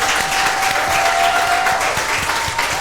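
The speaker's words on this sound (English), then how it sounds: "Can we get a sad. hand clap for y'all" Steady applause from an audience, a dense wash of clapping that continues evenly throughout.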